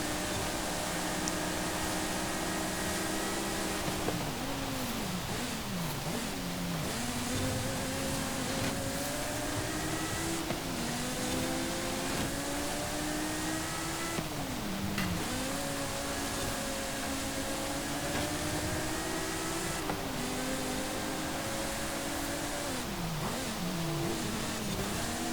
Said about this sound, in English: that V10 is still a howler of an engine